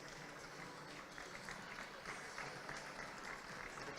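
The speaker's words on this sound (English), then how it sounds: "That's a round of applause here." An athletics meeting crowd applauds indoors, a distant and fairly faint spread of clapping that continues steadily with a commentator's voice over the top.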